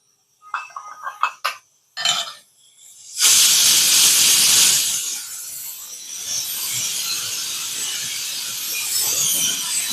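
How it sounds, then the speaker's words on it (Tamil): A pressure cooker releasing steam while cooking pongal: a few metallic clinks and taps, then a loud, sudden hiss that holds for a couple of seconds and settles into a steady, softer steam rush. "பொங்கலுக்கும் விசில் அடிச்சிருச்சுங்க."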